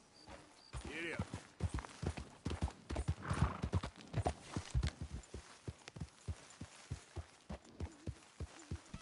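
Horse hooves clip-clop in Red Dead Redemption 2, a steady, close rhythmic trot of sharp knocks, with a brief whinny near the start.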